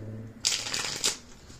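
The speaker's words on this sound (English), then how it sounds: "I just split the deck to shuffle" A tarot card deck is split and riffle-shuffled, two quick crisp bursts of flapping cards close up in a quiet room.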